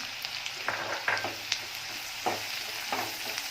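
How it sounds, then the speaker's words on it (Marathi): Finely chopped onion and ginger sauté on a low flame in a pan, a gentle continuous sizzle broken by a few soft stirring scrapes, close and quiet, with no voices. "कांदा जरा मऊसर तो परतून घ्यायचं"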